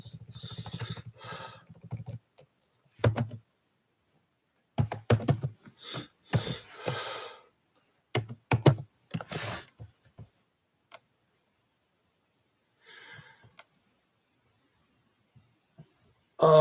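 A computer keyboard is tapped while a password is entered, in short scattered bursts of keystrokes separated by silent pauses, close and fairly crisp.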